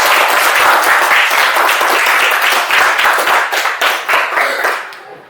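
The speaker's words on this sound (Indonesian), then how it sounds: "kalau semangat bisa tepuk tangan semua" A classroom of pupils claps hands together at a teacher's prompt, a dense, loud burst of many hands that thins out and tapers off toward the end, with no talking over it.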